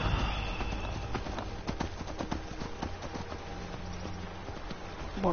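In Skyrim, horse hooves clip-clop at a steady, brisk pace, close and fairly quiet, with a faint snort at the start.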